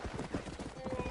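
Hooves clatter in quick rhythm with a brief whinny from a horse in the Red Dead Redemption video game, a short, busy burst of hoofbeats and movement.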